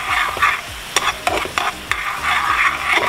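Soy-sauce chicken bistek is stirred in a pan, with a spoon scraping and clacking against the metal over a soft sizzle. A few sharp knocks punctuate the stirring, and no one speaks.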